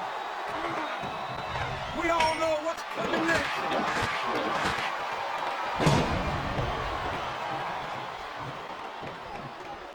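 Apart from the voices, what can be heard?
wrestling arena crowd in video game WWE SmackDown vs. Raw 2007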